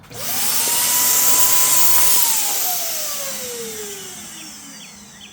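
An electric HVLP paint spray gun, used without a compressor for a cheap Rust-Oleum paint job, whines up loudly to a steady high drone, then slowly winds down in pitch as it runs out.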